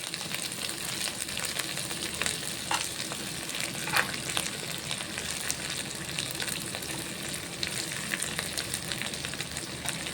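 Food frying and sizzling steadily in a pan while preparing coconut milk bagara rice, a continuous close crackle with occasional louder pops, no talking.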